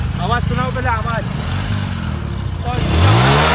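A Hero Passion Pro or Platina motorcycle, running on LPG, revs up with a rising engine pitch near the end, under loud voices of people talking nearby.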